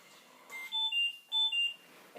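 A ventilator starting up and sounding its alarm, a series of high electronic beeps in two short clustered bursts, close and clear in a quiet room.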